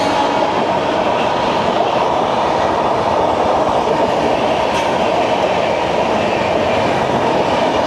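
Howrah–Mumbai AC Duronto Express (12272) passing through Nashik Road station in India, a loud, steady broadband roar of rolling coaches and rail noise that continues without a break for the whole stretch, close by, with no talk over it.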